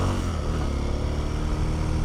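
A Kawasaki KLX230 Sherpa S dual-sport motorcycle pulling away on the road, its single-cylinder engine droning steadily and close by, with no talking.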